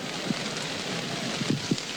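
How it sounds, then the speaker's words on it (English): Steady rain falls during a senior grand final football match, a broad hiss of drops with a few faint soft taps, and no voices. "Conditions are dark, it's raining."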